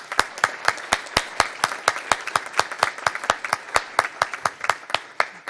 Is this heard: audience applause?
yes